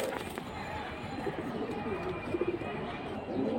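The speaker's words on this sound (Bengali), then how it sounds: "ফ্লাইয়ের জন্য খুবই ভালো কবুতর" Soft pigeon cooing amid rustling and background noise, with a few low rhythmic coos near the end.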